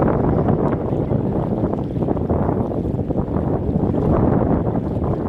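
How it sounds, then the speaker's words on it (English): Strong wind on a beach in Hurghada, Egypt, roars in a loud, steady rumble with gusty buffeting against the microphone and no voices over it. "The wind in Egypt, especially in Hurghada, can get very strong."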